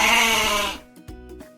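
A goat gives one loud, close, wavering bleat that ends abruptly, followed by a few faint short knocks.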